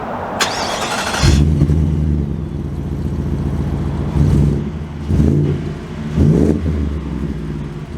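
A Ford F-150 Black Ops edition pickup starts up with a loud engine catch, then idles and pulls away with rising revs in several surges, close and prominent.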